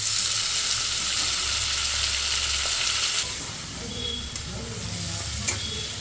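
Chopped onion and whole garam masala fry in hot oil for a chicken curry, giving a loud, steady sizzle. Softer stirring scrapes follow as the hiss eases slightly.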